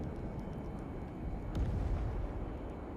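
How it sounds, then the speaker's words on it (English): Explosions in the Tiny Combat Arena combat flight game, a dense low rumbling roar with a heavier burst near the middle, continuous and loud with no talk over it. "the camera shake with the explosions is cool"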